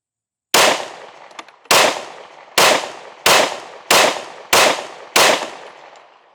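Seven loud, close pistol shots from a Sig Fuse or Shield Carry Comp, fired at a fairly even pace about a second apart, each a sharp crack with a short ringing decay, no talking.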